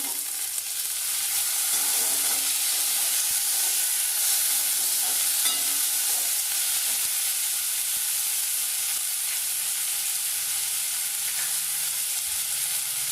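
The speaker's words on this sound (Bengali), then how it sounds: "পেঁয়াজটা দিয়ে একটু নাড়াচাড়া করবো" Chopped onion sizzles and fries steadily in a pan for a prawn curry, with a constant dense crackle and occasional scrapes of stirring throughout, close and fairly loud, no voices.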